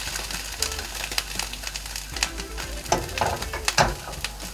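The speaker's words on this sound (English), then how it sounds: "you're just gonna put black beans into a frying pan to heat them up" Black beans sizzle softly in a frying pan as a utensil scrapes and stirs them in irregular taps and scuffs, quiet and close.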